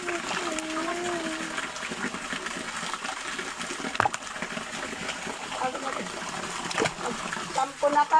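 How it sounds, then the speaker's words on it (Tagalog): Water splashes and trickles from an improvised outdoor shower beside a small river near a falls in the mountains, as a steady spatter with occasional louder splashes and knocks under people talking. "Andito kami sa instant shower ng tito namin."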